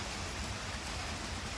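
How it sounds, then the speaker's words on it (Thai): Steady heavy rain pours down during a storm at home, a dense, even hiss of falling water with no other sounds. "ที่บ้านผมฝนตกนะครับ"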